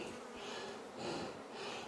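Honeybees hum from hive boxes packed full of bees as winter approaches. The buzzing is a soft, continuous drone that swells and eases gently, close by and with no talking.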